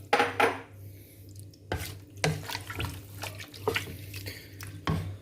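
Water pours into a pot of meat for Hungarian goulash, splashing in several short bursts with pauses between and faint clinks of kitchenware, close and fairly quiet.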